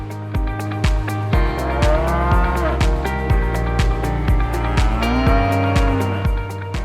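Rare-breed cattle on a specialty farm moo in long, loud calls over a steady background rumble with regular thumping, with no voices.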